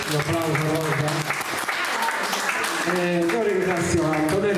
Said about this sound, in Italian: Un applauso Rosa.